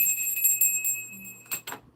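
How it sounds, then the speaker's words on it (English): A small hand bell rung a few times indoors, bright sustained ringing tones with a couple of sharper strikes near the end, no speech. "I want to ring my bell."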